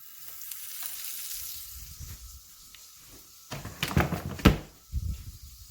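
Butter sizzles softly in a pan for an omelet, a faint frying hiss, joined later by a few sharp clatters and knocks of kitchen items handled nearby.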